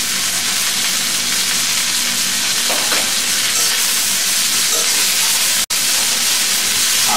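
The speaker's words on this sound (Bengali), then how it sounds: "বরবটি ছোট ছোট করে কাটা দিয়ে দিব, দিয়ে ভাজবো" Chopped yardlong beans and cabbage fry in a pan for a Bangladeshi bhaji, giving a loud, steady sizzle that runs throughout, with a brief dropout near the end and a few faint clinks.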